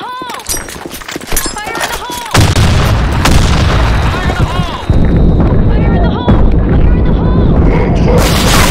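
Grenade blasts and gunfire in the online shooter Blackshot, heavy booming explosions with dense crackling battle noise, loud and continuous after a sharper opening of shots, with game voices calling out.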